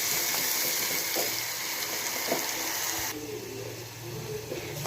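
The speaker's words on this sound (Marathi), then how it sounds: "तेल गरम झालेलं आहे. त्याच्यामध्ये हा केलेला मसाला घालते." Masala paste sizzles and fries steadily in hot oil in a home kitchen pan, a continuous close hiss with faint stirring scrapes, no talk.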